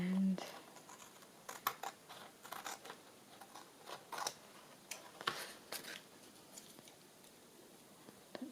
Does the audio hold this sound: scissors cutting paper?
yes